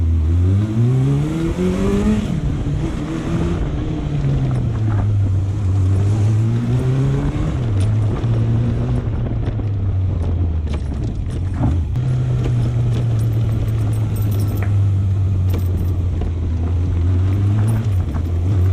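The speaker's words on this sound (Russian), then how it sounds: "Я попробую разогнаться, передачи до 3-4." A 2003 Yamaha XJR400 motorcycle engine revs up repeatedly, its pitch climbing and dropping as it shifts through the gears, loud and close with wind noise and no talk.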